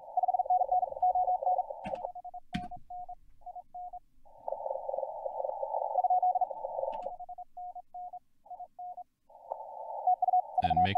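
Fast Morse code bursts on a 160m amateur radio contest band: a steady near tone keyed in rapid dits and dahs, with dense runs of code, quick short TU exchanges in between, and brief clicks and gaps of silence.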